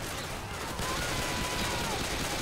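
Dense, continuous gunfire from a co-op zombie shooter game, rapid overlapping shots forming a loud wall of noise, with a voice talking over it.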